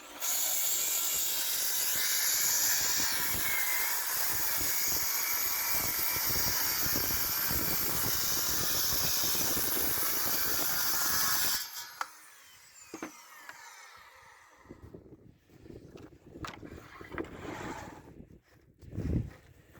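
A power saw cutting through plywood runs as a loud, steady broadband whine for about twelve seconds, then stops abruptly, leaving quieter scattered clatter and handling sounds.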